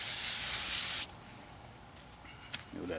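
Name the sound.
spraying a second coat of cleaner on a car wheel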